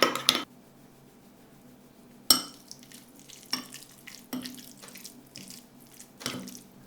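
Mayonnaise, salt, sugar and garlic being stirred into tuna in a bowl, heard as soft wet scraping and clinking of a utensil, with a few sharper knocks and taps, close and fairly quiet.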